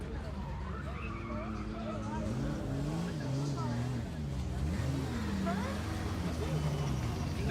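A 550-horsepower car at the Haltech HyperFest motorsport event, revving and sliding with rising and falling engine pitch and squealing tires, heard from nearby under ongoing talk.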